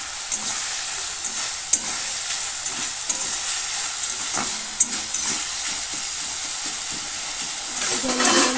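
Vegetables cooking in a covered pan with a little water in a Bengali-style sabji give off a steady close sizzle and hiss, broken by a few faint clinks of a spoon.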